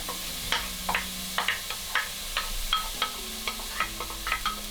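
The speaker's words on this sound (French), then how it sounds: "mettre les oignons et les 2 gousses d'ail dans le beurre pour les faire revenir" Onions and two garlic cloves sizzling in butter in a pot, a soft steady frying hiss broken by light, regular clicks and taps of a spoon stirring, close up with no voices.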